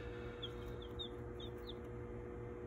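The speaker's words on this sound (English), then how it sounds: "They cheep all the time, the little cheeping." Baby chicks kept indoors give a few faint, high cheeps over a steady low hum, spaced irregularly across a brief stretch with no voices.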